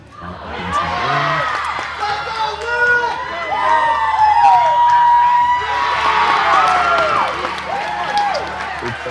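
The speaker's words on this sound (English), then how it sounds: "Celebrations in the crowd at the back of the gym" A crowd in a gym at a gymnastics championship for 9–10-year-olds cheers and whoops steadily, with high children's shouts and scattered clapping, while an announcer talks over the noise.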